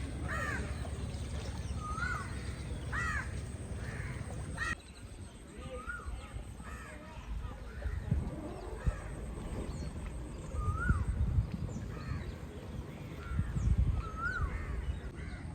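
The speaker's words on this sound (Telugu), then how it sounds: "నాతో సెల్ఫీ దిగడానికి బర్డ్ ఇక్కడికి వచ్చింది." Crows cawing near Alappuzha beach, repeated harsh calls spaced across the first half and fainter ones later, close by, over a rumbling outdoor background with some muffled handling noise.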